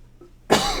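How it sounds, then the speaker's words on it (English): A single sharp cough bursts out close to the mic after a quiet moment and rings on briefly, loud against a faint background hum. "I'm about to cough."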